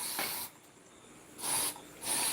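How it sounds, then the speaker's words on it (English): Mosquito spray hisses outdoors in three sharp bursts, the first about half a second long and the next two shorter, each loud and close with quiet gaps between them. "Now when I come outside, I got the spray."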